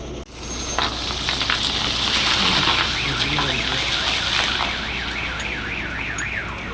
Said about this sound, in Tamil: ரெண்டு வண்டி ரிவேஸ் ஹார்ன் போடுறதுமே காதே அடைக்குது